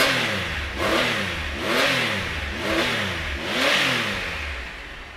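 A 2015 Triumph Explorer 1200 XC Globebuster, a shaft-drive triple motorcycle with about 14,000 miles, idles close by and is blipped through four rising and falling revs at a regular pace, with no talking.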